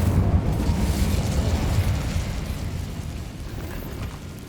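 An Incendio fire spell blasts in Hogwarts Legacy, a loud, dense roaring burst of flame that starts strongly and slowly fades over a few seconds, with no talk.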